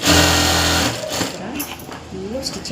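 A sewing machine runs a steady loud whirring burst while stitching a skirt, stopping after about a second as someone talks over the quieter remainder.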